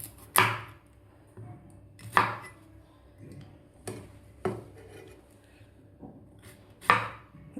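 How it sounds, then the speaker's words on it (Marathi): Knife chopping the ends off bitter gourd (karela) on a kitchen board, five or six sharp, close thuds at irregular intervals with quieter taps between and no talking. "आता सुरुवातीला आपण याचा मागचा आणि पुढचा भाग काढून घेऊया."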